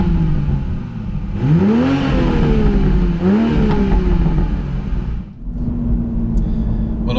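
A Toyota GR Supra with a 3.0-litre turbo engine, switched into sport mode, revs up twice in quick rising sweeps, then drops briefly to near silence before settling into a steady, close idle drone.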